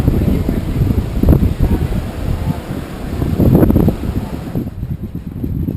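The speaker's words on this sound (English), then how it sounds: "It's very windy today." Strong gusty wind batters the microphone on the last day of a Jamaica holiday during Hurricane Irene, rumbling and buffeting in uneven surges with a brief easing near the end, loud and close.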